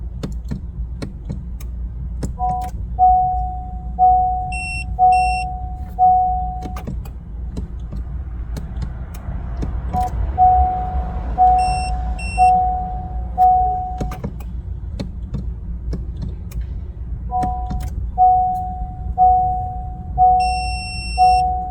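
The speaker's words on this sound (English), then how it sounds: "you will hear the tool long beep indicating the programming is successful" Short electronic beeps from a key programming tool sound in groups of rapid chirps, repeating at intervals over a steady low engine-like hum, with a few clicks in between, while programming a Honda HR-V key fob.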